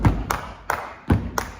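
Body percussion beat of alternating foot stomps and hand pats, low thuds paired with sharper slaps in a steady groove, about five hits, close and clear with no talk.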